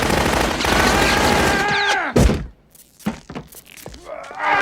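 Tommy gun fire from a 1989 sci-fi TV show, dense sustained rattling bursts followed by loud sharp shots and impacts, mixed with other scene sounds.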